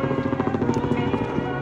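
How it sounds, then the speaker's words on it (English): A helicopter flies over a hiking trail, its loud rotor making a rapid, steady chopping thrum that fills the whole moment. "10 out of 10, don't recommend the helicopters. Even though it's cool. Just loud."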